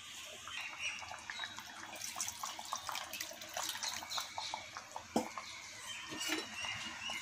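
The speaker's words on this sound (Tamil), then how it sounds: "கொஞ்சமாக தண்ணி விட்டுடலாம்." Water trickles and splashes faintly into a pot of mango fish curry, a steady light pouring with small gurgles and no speech.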